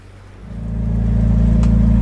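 An inboard engine on a Rival 41 sailing yacht at sea runs steadily and close by, a low throbbing drone that swells in loudness as it comes up to speed.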